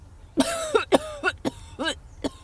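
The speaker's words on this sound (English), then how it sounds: "it sounds like she's coughing up a lung" A harsh run of about seven coughs in quick succession, close and loud, with a raspy, strained voice catching between them.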